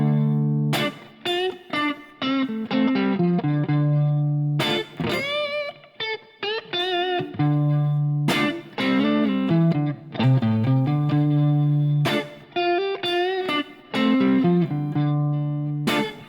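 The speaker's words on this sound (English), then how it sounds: "I'll alternate between that chord and play some licks using pattern 4." Distorted electric guitar trades sustained minor-key chord stabs with quick minor pentatonic licks in the fourth box pattern, all up close and loud, with effects and reverb on the tone and brief gaps between phrases.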